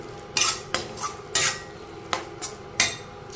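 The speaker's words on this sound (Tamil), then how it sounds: "நல்லா மிக்ஸ் பண்ணிக்கோங்க." A utensil stirring tomatoes and ginger-garlic paste in a pan, a series of sharp metallic clinks and scrapes at irregular intervals over a faint low sizzle, close up with no talking.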